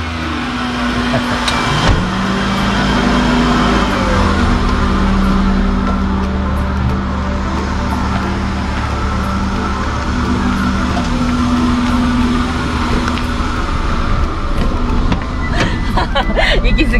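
Heard from inside a Daihatsu Mira Gino with a new aftermarket muffler, a steady engine drone and road rumble hold at a constant loud level while driving, with faint voices in the cabin.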